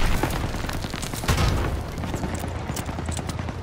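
A grenade goes off in the World War II game Call of Duty WW2 during a trench assault, a loud, dense boom layered over ongoing gunfire and battle noise that continues throughout.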